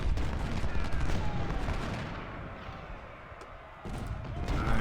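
Sustained battle gunfire and artillery from an American Civil War strategy game set at Perryville, a dense continuous roar of volleys and booms with no voices, easing briefly before swelling again near the end.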